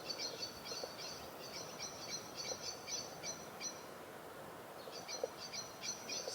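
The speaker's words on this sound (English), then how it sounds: "Just listening to the birds." Small birds on a farm in the Algarve, Portugal, sing in faint, rapid repeated trills, pausing briefly and starting again, over a soft steady outdoor hiss.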